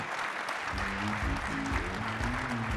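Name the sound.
audience applause for panelists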